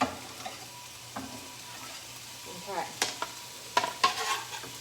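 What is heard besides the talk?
bacon sizzling in a frying pan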